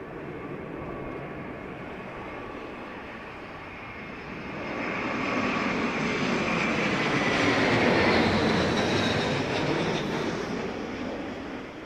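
An Airbus airliner landing at Heathrow during Storm Darragh, a broad jet roar that swells from a distant rumble to a loud pass and then slowly fades, wind noise throughout.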